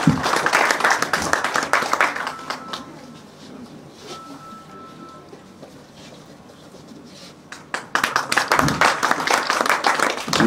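Applause for a journalist at a college event at Women's College Baramulla, close crowd clapping that dies down to a quiet middle with murmurs before a fresh loud round breaks out.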